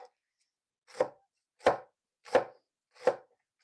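A knife chops vegetables on a board in a home kitchen: five crisp, separate knocks at an even, unhurried pace, close and clear against silence.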